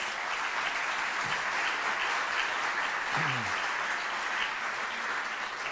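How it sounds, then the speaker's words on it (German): An audience in a hall gives Christoph Zimmer sustained applause, a steady wash of many hands clapping that holds at an even level throughout, with a brief low vocal sound partway through. "Und einen Applaus für den Christoph"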